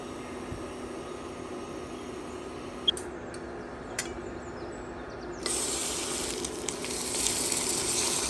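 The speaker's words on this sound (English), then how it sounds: "Fry your fish something like this." Dry fish frying in olive oil for a Goan para pickle, a steady soft sizzle and hiss throughout, growing denser and louder partway through, with a couple of brief clinks.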